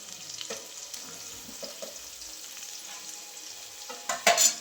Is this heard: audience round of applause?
no